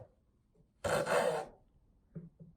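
A hand saw cuts through a wooden dowel trimmed to 33 inches for a Roman blind, giving one loud rasping burst of about half a second, followed by a couple of faint knocks.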